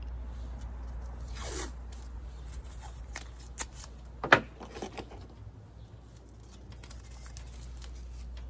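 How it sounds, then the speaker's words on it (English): Tape tearing and pressed onto a clear plastic seed-starting dome covering winter-sown dwarf sunflowers outdoors; a few quick rips and crinkly handling sounds, fairly close and quiet, with no talking. "so I'm going to tape it down."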